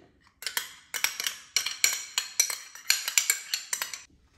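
Almond petits fours dough with soft butter, apricot jam and orange blossom water being worked in a kitchen mixer, giving a string of sharp, clattering metallic ticks at a fairly steady rhythm, close and moderately loud with no voices.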